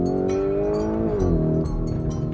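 A 2023 Lamborghini Urus Performante engine revs hard and stutters against its rev limiter, the roar dipping and surging in choppy bursts, loud and close with no speech.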